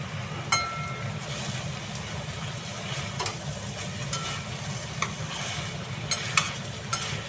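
Stalks and greens for chorchori cooked in a pan with raw mustard oil give a soft continuous sizzle, with occasional sharp clinks and scrapes of a stirring utensil.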